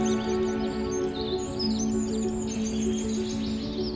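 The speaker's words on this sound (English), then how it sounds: "you'll hear the sound of birds" Birds chirp and trill high above a steady low droning hum in a newly planted native forest, the calls scattered and fairly faint, coming in short overlapping bursts across the background.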